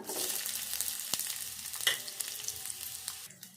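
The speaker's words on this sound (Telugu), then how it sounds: "ఇప్పుడు ఒక కడాయి పెట్టుకొని కొంచెం నూనె పోసుకొని ఉల్లిపాయలు వేపుకుందాము" Onions fry in oil in a kadai, giving a bright continuous sizzle close by, with a few stirring clicks and crackles and no voices.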